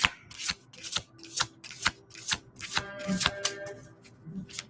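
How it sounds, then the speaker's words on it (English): Chakra cards being shuffled by hand in a noisy room, a rapid series of close, crisp riffling bursts repeating in an uneven rhythm, with no talking. "I'm feeling called to pull one more chakra card"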